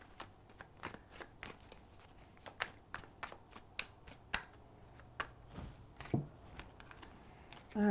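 Tarot cards are shuffled by hand up close, giving a long series of crisp, evenly spaced card slaps and flicks, quiet and without talking.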